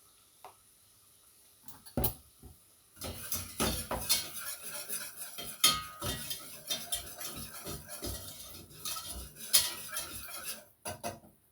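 Two tablespoons of flour being cooked and stirred in a pan to make a roux: a utensil scrapes and clinks against the pan in a steady rhythm, close and fairly quiet, with no talk.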